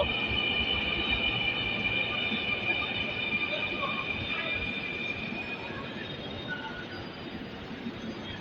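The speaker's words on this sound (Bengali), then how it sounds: "রেল চলে আসছে, মতিঝিলের ট্রেন।" A Dhaka metro train bound for Motijheel rumbles into the station and brakes with a high metallic whine, gradually slowing; crowd chatter murmurs underneath throughout.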